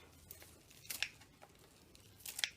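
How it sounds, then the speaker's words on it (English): Kitchen shears snipping tall garlic greens grown indoors, a few faint, quick crisp cuts with soft leafy rustling in a quiet room. "with my kitchen shears, I'm going to cut the greens"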